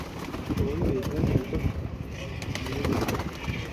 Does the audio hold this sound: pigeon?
yes